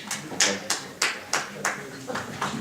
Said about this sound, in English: I would absolutely encourage clapping